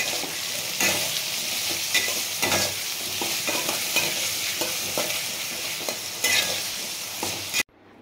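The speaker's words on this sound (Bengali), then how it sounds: "এখন আলুগুলি লাল লাল করে ভেজে নিচ্ছি।" Potatoes seasoned with salt and turmeric fry in a pan, with a bright, steady sizzle and repeated scraping stirs of a spatula until the sound cuts off abruptly.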